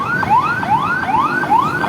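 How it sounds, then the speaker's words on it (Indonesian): An ambulance siren wails in rapid repeating upward sweeps, loud and close in street traffic, with a steady background roar and no talking. "Ada ambulan."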